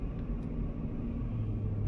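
A four-wheel-drive vehicle creeping along a snowy road in an Alaskan blizzard gives a steady, close low-frequency engine and road rumble that carries on without a break, with no talk over it.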